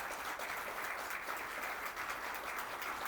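Audience applause fills a training boot camp hall: a dense, steady wash of many hands clapping together, loud and continuous throughout with no voices over it.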